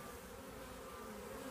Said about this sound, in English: so we've opened up Chloe hive